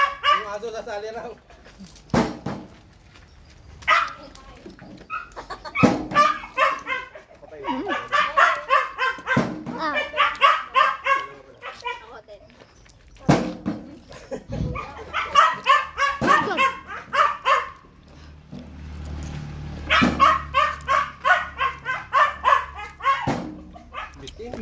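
A pet dog barking in bursts and whimpering at a family gathering, close and loud, with repeated yips between pauses while people talk around it.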